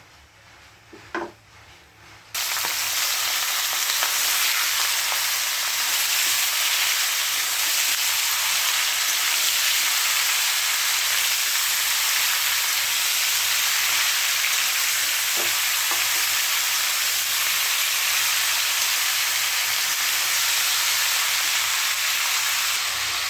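Boiled elephant apple (chalta) pieces hit hot oil seasoned with panch phoron and a dried red chilli while making chalta pickle, giving a loud, steady, close sizzle that bursts in after a quieter opening and holds unbroken, with no talking.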